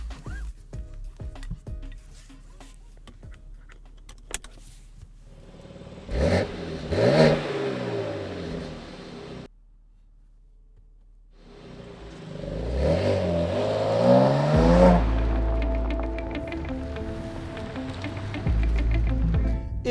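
A 2022 BMW X3 M Competition accelerating hard while driving, its engine rising through repeated upshifts, loud from inside the cabin, with a short quiet gap before another strong pull and rumble.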